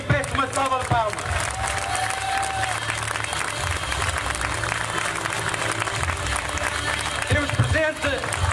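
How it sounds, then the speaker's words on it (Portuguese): A crowd at a political list presentation for the Matosinhos assembly in Leça da Palmeira applauds warmly, with sustained clapping and some cheering under a voice that talks over it. "Rodolfo Mesquita, para quem peço uma salva de palmas"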